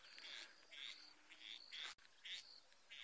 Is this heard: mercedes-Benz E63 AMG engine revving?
no